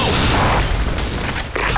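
A grenade blast in the online shooter PlaySF, a loud booming burst with rumbling debris that fills the whole moment, standing alone without talk.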